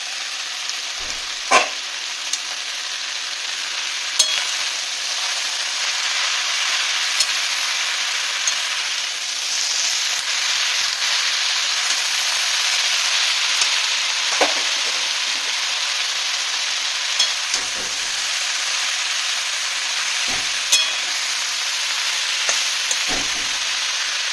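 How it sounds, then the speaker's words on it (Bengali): Chopped greens fry in a pan with fish oil for a Bengali chorchori with vegetables, making a steady close hiss of sizzling with occasional soft clicks of stirring and no talk. "এই যে শাকগুলো আমি কেটে রেখেছি শাকটা দিয়ে"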